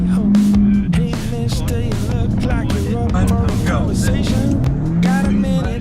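Ferrari Challenge race car at Brands Hatch revving hard at the launch, a loud, sustained engine note rising and falling in pitch through the clip, with voices talking over it.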